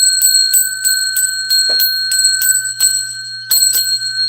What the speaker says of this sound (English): It's time for the 100 thumbs up bell warning.